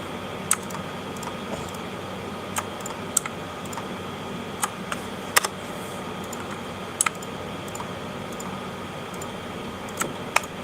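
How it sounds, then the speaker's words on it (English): Sharp, irregular clicks from a computer mouse in a quiet room, a dozen or so close taps spread over about ten seconds against a faint steady hum. "I must be right clicking by mistake."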